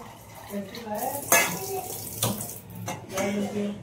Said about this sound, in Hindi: फिर पानी ऐड कर दिया इसको